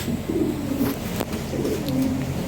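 Healthy European Lahori pigeons, a male and a female, coo in low rolling phrases nearby, repeating through a steady background hum.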